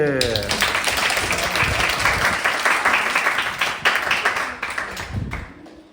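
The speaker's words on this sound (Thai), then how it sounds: "ปรบมือ" An audience claps for a robot at an event, giving a dense, sustained round of applause with voices talking and calling over the clapping.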